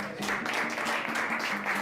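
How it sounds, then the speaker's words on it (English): Conference audience applauds at a music industry event, a dense, steady patter of clapping that fills the short moment with no break. "Hey guys, big round of applause."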